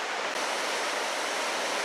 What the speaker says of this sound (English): There we have another area where the water is just crashing below there.